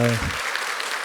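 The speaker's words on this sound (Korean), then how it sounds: "박수로 격려합니다" A church congregation at an early-morning prayer service applauds its choir: a short burst of clapping right after a voice stops, brief and moderately loud.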